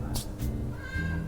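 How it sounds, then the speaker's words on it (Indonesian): A cat meows a few times beside a room full of talk, the short calls rising over the murmur of voices. "Ada yang meong-meong."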